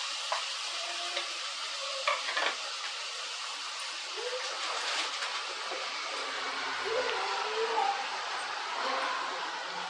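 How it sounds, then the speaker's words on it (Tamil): Tomato and masala sautéing in a pan for a village-style fish curry, a steady soft sizzle with light stirring scrapes throughout, no talking. "நல்லா பச்சை வாசனை போகிற அளவுக்கு நல்லா வதங்கட்டும்."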